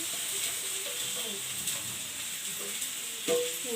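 Tomato and a few garlic cloves fry in a pan, giving a quiet, even sizzle with soft stirring scrapes and one brief clatter near the end.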